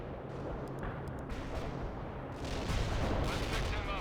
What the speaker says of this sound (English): Everyone, pick your targets and open fire.